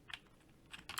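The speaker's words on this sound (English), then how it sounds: "I'm going to just start typing right now" Quick, faint keystrokes on a computer keyboard, a few soft clicks in about a second, close and alone.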